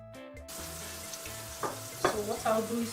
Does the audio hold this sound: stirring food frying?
yes